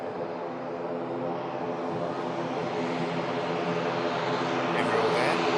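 An EasyJet airliner rotating on takeoff, its engines a broad, steady roar heard from a distance at an airport, holding constant and swelling slightly toward the end.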